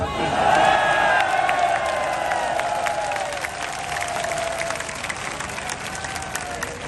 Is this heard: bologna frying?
no